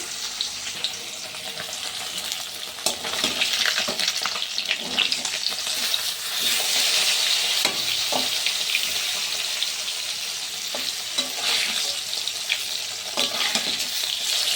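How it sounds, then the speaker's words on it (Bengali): Catla fish pieces fry lightly in oil with a bright, continuous sizzle and scattered pops and crackles, heard close and moderately loud for the whole stretch with no talking. "হালকা করে একটু ভেজে নেব।"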